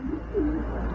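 Racing pigeons coo in a loft, a short low throaty coo close by over a dull background hum.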